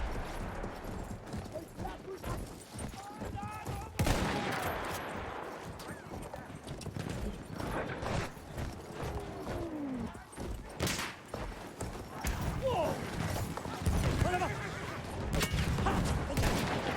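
Cavalry horse hooves clip-clop rapidly through a battlefield in a video game, with scattered gunfire cracks and bursts, occasional whinnies and faint voices in the background, all at moderate level throughout.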